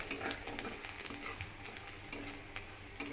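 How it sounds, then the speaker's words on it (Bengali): Paneer pieces fry lightly over a low flame in a pan, a quiet, continuous sizzle broken by scraping and clinking stirring strokes at close range. "এটাকে হালকাভাবে একটুখানি ভেজে নেব।"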